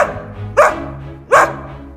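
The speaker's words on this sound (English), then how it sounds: "Female dog." A dog gives two sharp, loud barks about a second apart, close by, with a low background hum between them.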